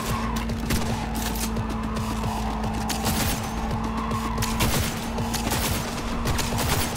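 Rapid gunfire in the video game Cyberpunk 2077 rattles on steadily throughout, loud and close, layered over a constant engine hum from a vehicle chase.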